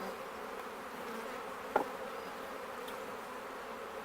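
Honey bees hum steadily around an open hive during a February split, a continuous droning buzz near and fairly soft, with one brief knock midway.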